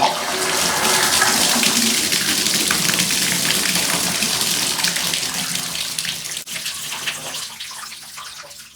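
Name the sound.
shower water running from the faucet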